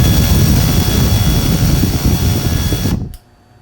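Typhoon H drone rotors spin with a loud, steady close-range whir, then cut out abruptly near the end, leaving quiet.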